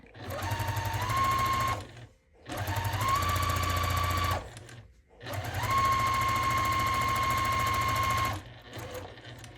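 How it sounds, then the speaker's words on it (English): Sewing machine stitching along the edge of a scrap quilt block in three loud, steady runs of rapid mechanical whirring, each run halting briefly before starting again. "I'm just going to stitch off the edge"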